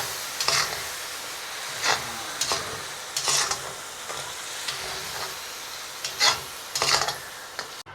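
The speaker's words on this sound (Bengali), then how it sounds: "টমেটোটা ভাজা হয়ে গেছে" Sliced tomatoes fry in a pan while a fish-head dal is being made. Repeated scraping stirring strokes break over a steady, soft sizzle, close by, with no talking.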